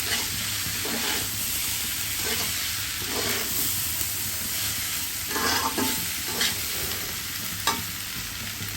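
Pasta tossed by hand in a hot pan, with soft irregular stirring and rustling over a steady sizzling hiss, close and continuous without talk.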